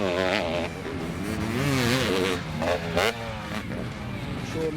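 A BRC-powered 500cc two-stroke motocross bike races on a dirt track, its engine buzzing in the background beneath a commentator's continuous talk.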